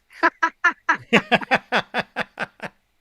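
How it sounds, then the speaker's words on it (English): Fowl at a chicken coop let out a rapid run of about a dozen loud, honking, quack-like calls. The calls come close by in an even, steady rhythm with short gaps between them. "The chicken coop."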